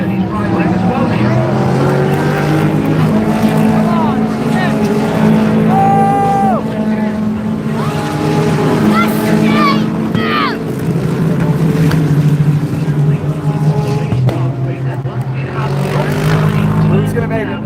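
A BMW and a Mustang GT3 race car run side by side at Daytona during the Rolex 24, with roaring engines rising and falling as they pass. Excited commentary talks over the engines throughout.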